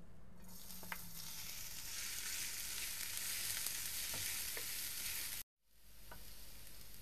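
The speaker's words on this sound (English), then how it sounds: "Now we add in the onions, and we're going to saute that until transparent." Chopped onions sizzle steadily in hot olive oil in a pan, a broad close frying hiss with a few light scrapes, cutting out briefly near the end before resuming.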